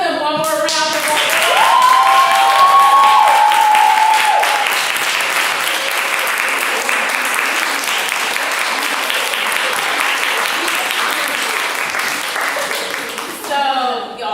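Sustained audience applause fills a leadership institute showcase hall, loud and dense for most of the stretch, with a voice speaking over the start before the clapping thins out near the end.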